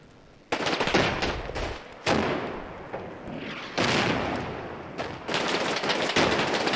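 Tank guns from Panthers and Shermans boom in the Combat Mission video game, four loud sharp blasts at uneven intervals, each trailing off into a rumbling decay.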